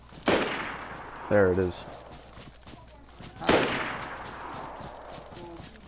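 Two sharp Mosin rifle shots ring out in a video game, one early and one a few seconds later, each with a long decaying echo, while a player speaks briefly between them.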